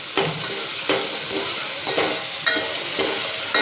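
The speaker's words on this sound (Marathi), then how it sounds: "आता ते चांगलं हलवायचं।" Spices, sugar and salt are stirred into tomato frying in a pan, with regular scraping strokes about every half second over a constant close sizzle.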